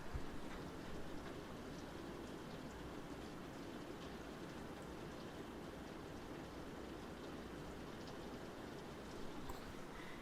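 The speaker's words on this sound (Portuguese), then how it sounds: "Agora com certeza dá pra vocês ouvirem o barulho da chuva." Steady rain heard from beside a window, a continuous broadband hiss and patter at even loudness throughout with no talking.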